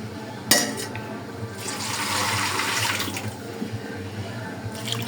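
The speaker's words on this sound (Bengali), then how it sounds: "দিয়ে দিব পানি" Water pours into a cooking pot of chicken feet being set up as a lightly spiced soup cooked nihari-style, a steady rushing splash lasting about two seconds after a brief clank, with faint kitchen noise around it.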